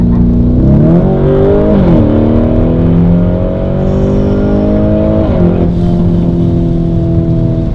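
A Lamborghini Urus fitted with a new front-to-rear Novitec exhaust system, revved hard with the flaps open: a loud, close engine climbing and falling in pitch through several sharp revs, ending in a steady, deep roar.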